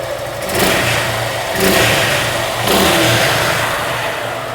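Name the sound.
Suzuki Gixxer Naked FI ABS V3 motorcycle engine running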